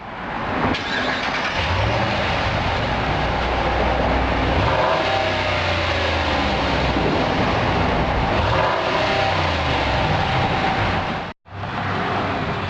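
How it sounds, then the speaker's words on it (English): A 2017 Ram Hemi pickup truck's V8 with stock exhaust rumbles loudly and revs repeatedly with a deep exhaust note, cutting out briefly near the end before resuming. "2017 Ram Hemi with the stock exhaust."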